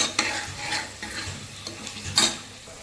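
Onion, green chilli and tomato sautéing in a pan for a mint chicken curry, with a steady sizzle broken by several scraping stirs of a spatula, two of them louder strokes near the end.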